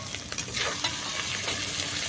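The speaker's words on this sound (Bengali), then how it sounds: "আদা রসুন আর পেঁয়াজটাকে কিন্তু খুব ভালো করে আবার আমি ভেজে নেব" Ginger, garlic and onion fry in a pan with a soft, steady sizzle and crackle, alone and close by over a couple of seconds.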